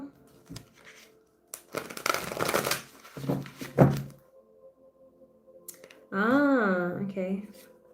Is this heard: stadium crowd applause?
no